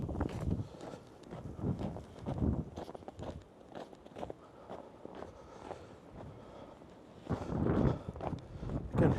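Wind gusts through a snowy forest in uneven, buffeting bursts close to the listener, rising and falling, with what may be soft footsteps among them.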